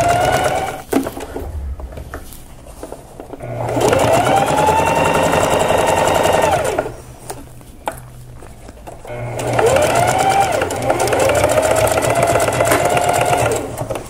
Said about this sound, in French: J'aide ma machine à monter par-dessus mon tissu.